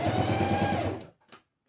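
Close, loud whirring of a sewing machine topstitching along the zipper of a fabric box pouch, a steady run of about a second that cuts off abruptly, followed by a brief click and then silence.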